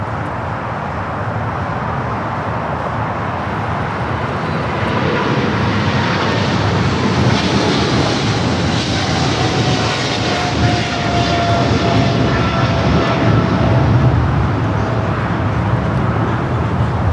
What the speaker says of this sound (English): Eva Air Cargo 621 taking off to Taipei on the 777 freighter